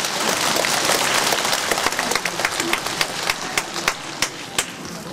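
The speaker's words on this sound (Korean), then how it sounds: "박수 크게 한번 보내주세요" A lecture audience at a guest talk by a former Gyeonggi governor breaks into applause, a dense, steady roar of clapping that thins toward the end into a few loud, separate claps.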